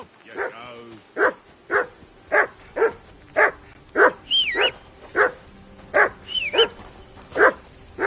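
Dog barking in the video game Kingdom Come: Deliverance 2: a dozen or so sharp, evenly spaced barks, loud and near, with a couple of short whistles between them.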